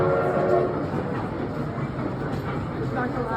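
A train passes nearby in Canada with a dense, steady rumble and rattle of the cars, loud and unbroken across the short stretch.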